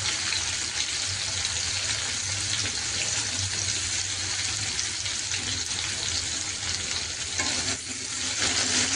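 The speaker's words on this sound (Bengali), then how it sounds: "আগে কড়াইতে তেল দিয়ে নুন হলুদ দিয়ে আলুগুলো ভেজে নিতে হবে" Potatoes frying in oil with salt and turmeric in a wok, a loud dense close sizzle holding steady throughout the whole stretch with no talk.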